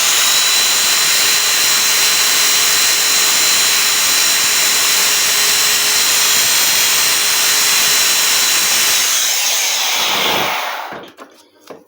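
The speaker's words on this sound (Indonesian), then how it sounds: "Artinya harus dibubut dikit lagi." A lathe turns a part that is still catching during the repair of a trash unit, giving a loud, steady whirring hiss with a faint tonal whine. It cuts out near the end, leaving a few scattered clicks.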